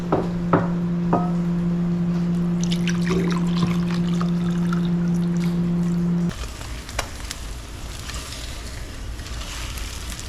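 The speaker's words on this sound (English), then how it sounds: "And I'm gonna put my gravy in here." Gravy is poured into a pan where sausage has been cooking, producing a steady close sizzle and trickle under a constant hum, then a softer frying hiss continues.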